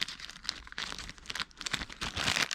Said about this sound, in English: Close up the bag